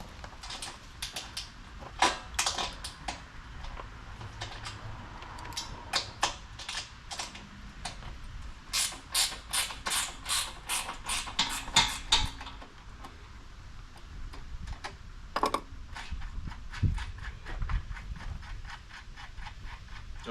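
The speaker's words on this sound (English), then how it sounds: "hand me that 1/2 inch wrench, please" A half-inch wrench ratchets and clicks on bolts while a mobile gas filling pallet is assembled, giving quick, close runs of metallic ticking with short pauses between turns.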